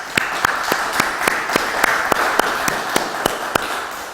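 A church congregation applauds at the close of a Sunday worship service, sustained crowd clapping joined by a few sharp, evenly spaced louder claps that keep time to a steady beat.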